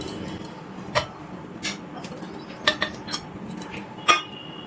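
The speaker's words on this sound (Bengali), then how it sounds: "মিক্সি জারের মধ্যে নিয়ে নিচ্ছি আমগুলো" Cut ripe mango pieces are dropped into a mixer jar, giving a handful of light clinks and taps spaced irregularly over a quiet room.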